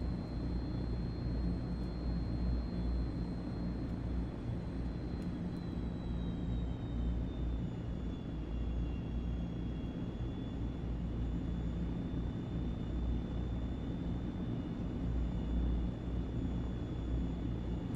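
A C160 aircraft in the Microsoft Flight Simulator 2024 game drones steadily with constant engine noise and a high whine that shifts slightly in pitch, heard alone and unbroken throughout.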